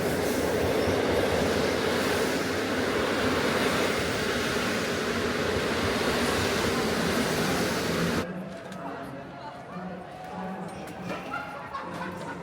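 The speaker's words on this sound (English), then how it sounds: "Right now I am on a train from Kharkiv to the border town of Przemyśl in Poland" Steady, loud rumble of a Ukrainian sleeper train running from Kharkiv toward Przemyśl on the Polish border, with wheels and carriage noise filling the first eight seconds, then dropping to a quieter interior hum with faint clicks.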